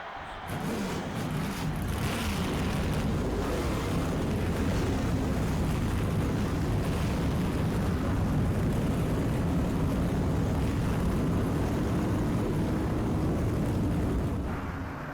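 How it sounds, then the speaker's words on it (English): Several race car engines from the NASCAR Thunder 2004 video game roar to life together, a loud, steady, dense rumble that swells at the start and holds for the rest of the clip with no talk over it. "Gentlemen, start your engines."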